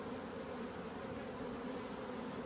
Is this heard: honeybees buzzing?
yes